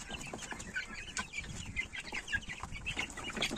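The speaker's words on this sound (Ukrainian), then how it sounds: "Тут у мене амроксики і білефельдер підростає, півня, півняче стадо." A flock of young Amrox and Bielefelder cockerels clucks and murmurs softly at a distance, with scattered short calls over a low yard background.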